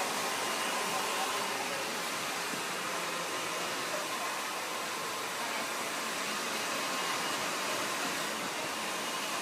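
Hair dryer blowing short hair backward during a women's short haircut styling, a steady broadband whoosh of air held evenly throughout, close and moderately loud, with no speech.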